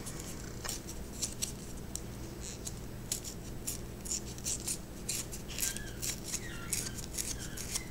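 A fingernail tears the edge of paper for a handmade thank-you card: close, crisp scratchy rips and small clicks come in short irregular bursts over a quiet background hum.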